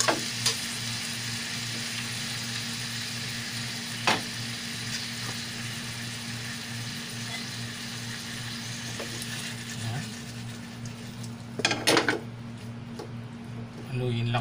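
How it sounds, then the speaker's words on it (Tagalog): Garlic shrimp and cauliflower with oyster sauce are stirred in a pan over a constant sizzle with a low hum beneath, spoon clicks at intervals, and a burst of scraping near the end. "Haluin lang natin."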